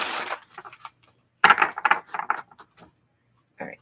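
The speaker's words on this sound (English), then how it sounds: "All right, last shuffle." Tarot cards shuffled by hand during a reading, a quick papery riffle followed by several bursts of flicking and tapping with short pauses between them.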